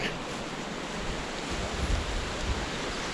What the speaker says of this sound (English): look at the stream's running really fast